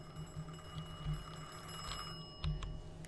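A telephone rings in the game Mafia II, a faint repeating trill of evenly spaced rings heard under a steady low hum of background ambience.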